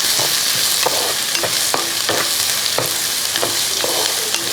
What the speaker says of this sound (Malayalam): ആ സവോള അങ്ങോട്ട് ഇട്ട് കൊടുക്കുകയാണ് അതിനുശേഷം ഒന്ന് ഇളക്കി കൊടുക്കുക